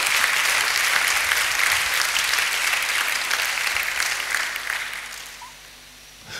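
A church congregation at a solemn convocation breaks into sustained, dense applause acclaiming the Lord, steady and full for several seconds before tapering off near the end.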